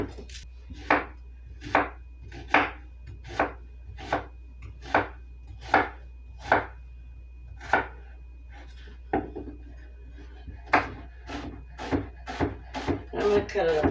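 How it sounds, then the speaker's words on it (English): A medium-sized onion being chopped on a board, with steady, evenly spaced knife strikes close by, pausing briefly before a quicker run of cuts. "we're going to cut up this onion"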